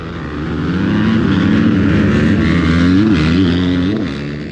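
A pack of dirt bikes launches together at the start of a hare scramble race, engines swelling to a loud, layered roar that peaks and then begins to recede.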